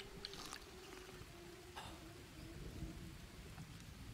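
Steady rain from the survival game Green Hell falls across a jungle scene, with a low continuous rumble of distant thunder beneath the hiss and a few brighter spatters standing out.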